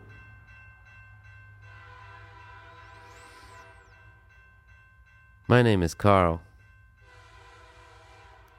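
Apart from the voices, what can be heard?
train with horn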